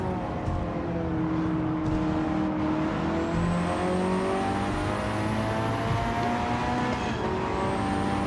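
Ford Focus RS race car engine in Gran Turismo 7 at Tokyo, a steady loud drone with rising and falling revs, no voices, continuous across the whole stretch.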